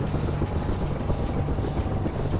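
A UH-1H Huey helicopter engine in the DCS flight simulator is winding down after a fuel cut. It makes a steady, loud, low rumble with a whooshing, wind-like roar and no talk over it.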